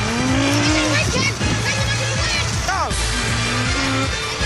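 Go-kart racing in a movie, karts whining and revving loudly with tire squeals and pitch swoops as they pass, under excited shouting voices.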